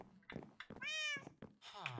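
Cats in the modded Minecraft video game give a couple of short, close meows, with a brief thunk between them.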